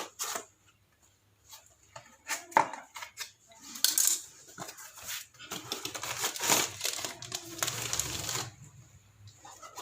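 Bubble-wrapped package holding a car rear brake stop lamp being opened, irregular close crinkling, rustling and tearing that grows busier and denser toward the end.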